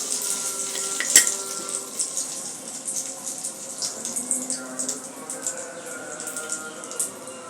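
Oil pitha, soft rice cakes made with egg and baking powder, frying in hot oil, a steady low crackle and bubbling hiss running throughout with a few faint clinks, no talking.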